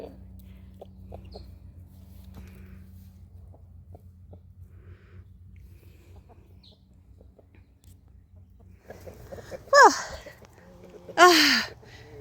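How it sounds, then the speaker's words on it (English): Backyard chickens (chooks) turned loose on a garden bed, giving two short, loud vocal bursts near the end after a long stretch of quiet ambience with faint clucks. "They can give it a good going over now, the chooks. They're gonna love it."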